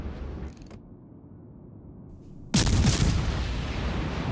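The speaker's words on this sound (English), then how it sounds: "So I'm just going to try and turn to get all my guns to face him, and then we will end up shooting at him." A warship's main guns fire a salvo in World of Warships: Legends, a sudden loud booming blast after a quieter rumbling stretch, followed by sustained roaring, crackling noise.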